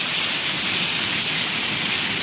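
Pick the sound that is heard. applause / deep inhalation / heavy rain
heavy rain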